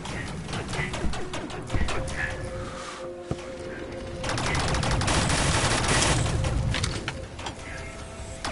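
Gunfire from a weapon in the VR game Rec Room, with a dense burst of rapid shots standing out over a busy, noisy game mix, mid-level and close.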